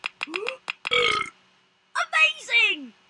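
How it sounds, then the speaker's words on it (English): A cartoonish burping sound effect from the Horrid Henry's Big Box of Pranks iPad game plays, a run of short belches then longer croaking burps, loud and clear with no talk over it. "More burping."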